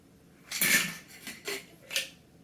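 A shaken margarita poured over ice into a glass, giving three separate bursts of clattering ice and splashing liquid, close and moderately loud, with no talking.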